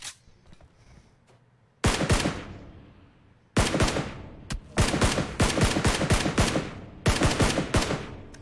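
Bursts of video-game gunfire: a quiet lull, then repeated loud rapid volleys of shots in clusters, sharp and close, with no talking over them.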